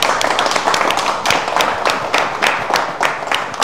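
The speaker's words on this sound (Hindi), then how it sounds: "ताली मार दो सारे भाई।" A group of people clap together on cue in a Haryana-set police spoof scene, a dense, fairly loud burst of hand claps with irregular sharp peaks running throughout, with no talk over it.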